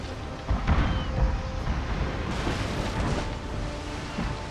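Warship cannons fire during a Total War: Napoleon naval battle in a video game, giving a continuous loud rumble of booming shots and blasts that overlap densely and never fall quiet.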